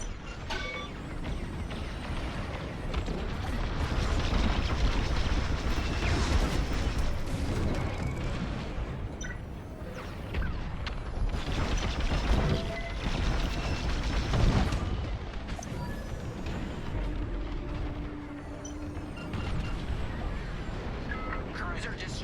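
In the Star Wars: Squadrons video game, a cruiser is destroyed in a sustained, dense roar of rumbling explosions and blasts, with game dialogue mixed in.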